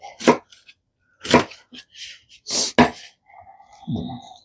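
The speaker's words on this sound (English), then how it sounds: "I'm going to just chop these bad boys up and put them in that pot." Greens being chopped with a big knife on a board, a few sharp separate thuds spaced unevenly, close, followed by a brief faint bit of background voice.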